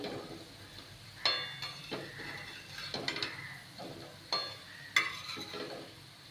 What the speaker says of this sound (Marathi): आता आपण ही बटाटी परतून घेऊयात